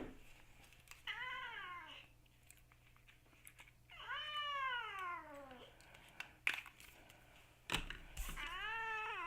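A house cat meows several times, long drawn-out cries spaced a couple of seconds apart, close by and clear over a quiet room with faint clicks and handling noises.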